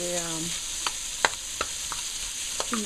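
Oil sizzles steadily as food finishes frying for Multani soup, with a few sharp clicks and stirring scrapes over the continuous hiss, close and moderately loud.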